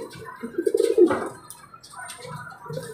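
Pigeons coo at their loft in a low burbling call, loudest in a brief burst near the start, with softer coos and faint chirps continuing after.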